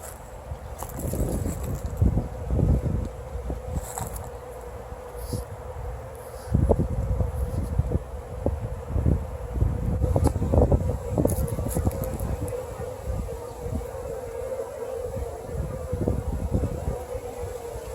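Honeybees buzzing around beehives, a steady droning hum of many bees close by, mixed with wind gusts and handling thumps, with someone talking intermittently.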